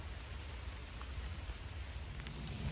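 Steady rain falls through a forest during mushroom foraging, a dense even hiss of drops with a low rumble underneath, continuous and fairly quiet with no voices.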